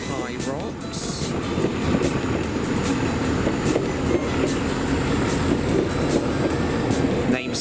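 Class 31 diesel locomotive hauling a train on a heritage railway, a continuous rumbling engine drone with rhythmic wheel clatter close by, and people talking over it.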